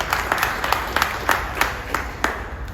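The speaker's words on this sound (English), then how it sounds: "We need to give a round of applause for that." Applause from an audience at an outdoor groundbreaking ceremony for a building at 4565 McRee in St. Louis, sparse individual claps repeating steadily at moderate distance with no one talking.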